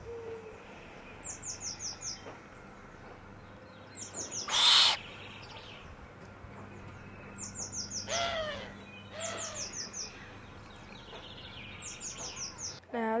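A young owl chick still covered in natal down on its chest and head gives repeated short hooting and chirping calls in rapid bursts, close by, with someone talking over the quiet background.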